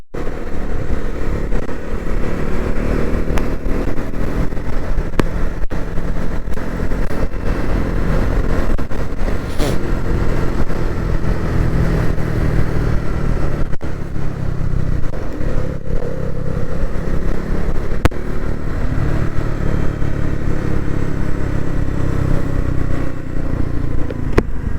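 A motorcycle rides along a road on a monsoon trip, its engine droning loud and close throughout with steady wind rush and occasional clattering, and no clear talk over it.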